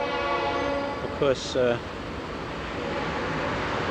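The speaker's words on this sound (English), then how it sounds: "in the background you hear the train, which we learned to sleep through" A train passes behind a residential driveway, heard as a faint distant horn with a brief pair of tonal blasts under steady background rumble, while someone talks over it.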